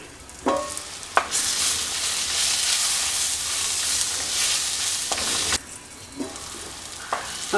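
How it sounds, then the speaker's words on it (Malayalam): Fried prawns cook in a tomato masala, giving a loud steady sizzle broken by a few scraping stirs and short pauses, close by with no voices. "നമ്മളിവിടെ ഫ്രൈ ചെയ്ത് വെച്ചിരിക്കുന്ന ചിമ്മിയും ചേർത്ത് കൊടുക്കാം തക്കാളി മസാലയുമായിട്ട് നന്നായിട്ടൊന്ന് കുക്കായി വരട്ടെ"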